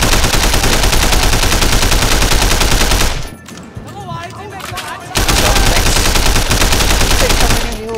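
Rapid, sustained gunfire from the video game Sleeping Dogs, loud and dense for about three seconds, a brief lull with softer sounds, then another long burst of continuous shooting.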